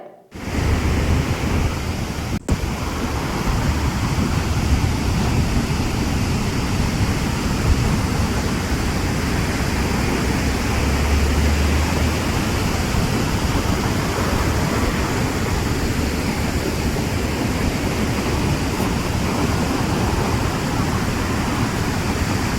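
Monsoon sea waves rolling onto the shore at Ratnagiri, a steady, loud broadband roar of surf and wash with no distinct breaks, continuous throughout.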